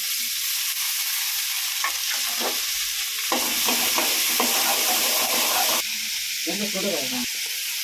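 Tomato pieces tossed into a hot frying pan while cooking a Tamil dried turkey berry kuzhambu, a steady loud sizzle with stirring clatter, and a voice speaking over it.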